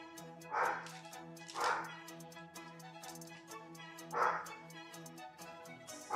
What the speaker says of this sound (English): Apologies on the barking in the background.